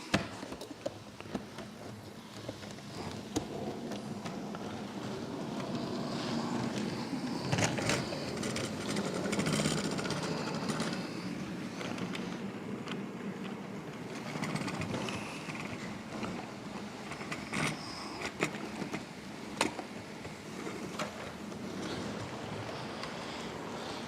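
A model railway train runs around its track, sounding rough and uneven: a steady mechanical whirring and clattering that carries on throughout at moderate level, with no talk.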